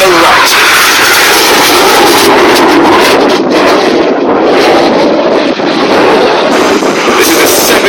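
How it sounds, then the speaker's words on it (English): Red Arrows jets pulling up at the Leuchars airshow, a loud continuous roaring jet rush mixed with heavy wind noise across the microphone, with an announcer's voice running underneath. "This is a 7G pull-up here, and we go patriotic once again with the red, white, and blue smoke"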